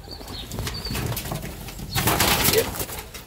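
A young racing pigeon flapping its wings in flight at a late-night loft fly-out, giving soft, irregular fluttery bursts that grow louder near the end over steady outdoor background noise.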